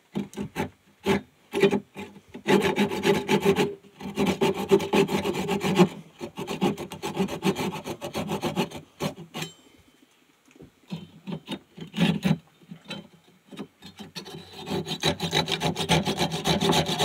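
Steady back-and-forth sawing through a piece of hard maple, close and fairly loud, in long rasping bursts with a short pause near the middle before the strokes resume.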